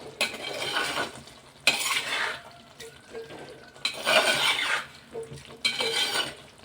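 A spoon scrapes and clatters in a pan as ground green peppercorn is mixed into a beef heart curry, in several bursts of stirring separated by short pauses.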